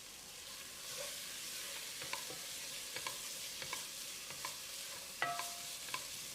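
Spices sizzle in a pan for cauliflower biryani while a utensil stirs and scrapes them in repeated soft strokes; no talking.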